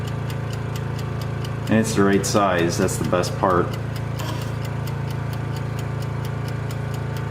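Honda 2000i portable inverter generator running at a steady idle, an even droning hum with fine ticking rhythm, close by, while someone talks briefly over it.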